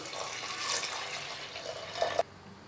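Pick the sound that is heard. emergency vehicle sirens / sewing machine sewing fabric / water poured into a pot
water poured into a pot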